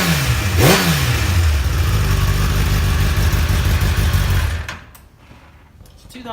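A one-owner 2015 Kawasaki ZX10R 30th Anniversary motorcycle with low mileage fires up and runs loud and close, with a quick rev near the start, then falls to a much quieter idle.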